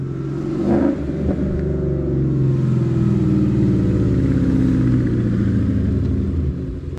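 A Ford Mustang engine revs loud and close, a sharp rise near the start settling into a steady, throaty rumble that holds for several seconds before easing off at the end.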